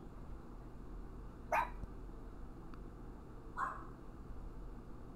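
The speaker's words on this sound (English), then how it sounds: "My puppy is barking at the neighbors." A puppy barks at the neighbors twice, short sharp yaps about two seconds apart, fairly distant over a steady low background hum, with no talking.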